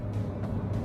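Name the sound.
Renault Triber 1-liter 3-cylinder engine running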